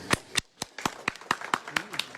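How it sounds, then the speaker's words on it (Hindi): Scattered hand claps from a crowd at a political campaign rally for a by-election in Bulandshahr, sounding as sharp separate claps in an irregular rhythm rather than full applause, with a voice faintly present. "ताली मत बजाओ ना"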